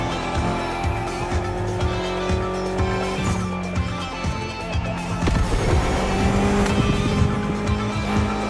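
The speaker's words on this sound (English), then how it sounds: "Mitsubishi gave us a nice inline 4-cylinder with already 280 horsepower" A tuned Mitsubishi inline four-cylinder car, around 280 horsepower, roars continuously in The Crew Motorfest racing game, its revving engine loud and close, with tire squeal and skidding mixed in and music-like tones layered underneath.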